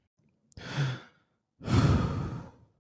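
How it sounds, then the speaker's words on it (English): Two slow, deep breaths up close in a quiet room: a short inhale followed by a long, audible exhale, the second breath longer and fuller, with no talking. "I think it is important for us to get our mind and body ready by taking deep breaths."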